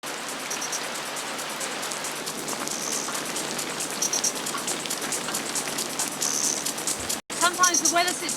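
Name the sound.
heavy rain shower with large raindrops in Africa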